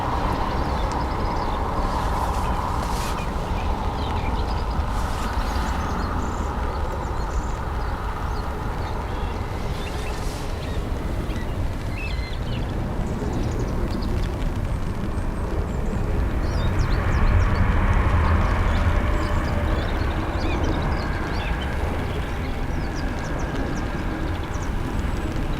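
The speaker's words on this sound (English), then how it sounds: "Aer Lingus from Heathrow." An Aer Lingus airliner arriving from Heathrow at Dublin Airport gives a steady, broad engine roar throughout, swelling slightly louder in the latter half, with wind and outdoor ambience mixed in and no talk.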